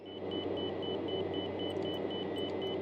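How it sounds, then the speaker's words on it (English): Steady, evenly spaced electronic beeps ring out in the cockpit of a Piaggio P.180 Avanti II in the MSFS 2024 flight simulator, repeating about three times a second over a constant low engine hum. "Something's beeping, and I don't know what it is."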